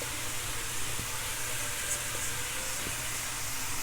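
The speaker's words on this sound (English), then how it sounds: "We want to hear that sizzle." Mushrooms sizzle in hot oil in a pan, a dense, steady hiss that stays loud throughout, broken by a few faint pops and taps, with no talking.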